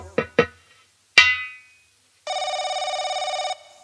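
A mobile phone ringing during a folk theatre nautanki performance, preceded by a few sharp percussive hits and a ringing chime, then a steady pulsing electronic ring lasting over a second, clear and alone.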